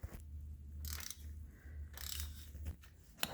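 Ratchet on a small extension loosening 15 mm exhaust nuts on a 2012 Ford Focus, heard as faint bursts of quick clicking separated by pauses, close and quiet, no talk.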